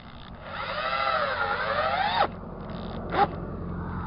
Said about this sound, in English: I can't put any pressure on the drill